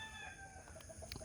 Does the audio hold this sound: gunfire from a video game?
no